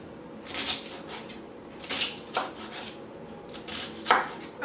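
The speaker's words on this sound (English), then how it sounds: "So I'm gonna start with chopping my onion." A knife chops an onion on a cutting board in a home kitchen, with a few sharp, separate knocks spaced unevenly over a steady low room hiss. No one speaks.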